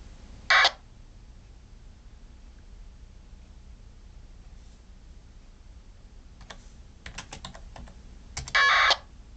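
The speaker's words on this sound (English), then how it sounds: "you'll be able to hear what the packet signal sounds like." Packet radio data bursts received on a Yaesu VX7R handheld transceiver: two short harsh buzzing bursts, one near the start and one near the end, with a faint stutter of clicks before the second over low background hiss.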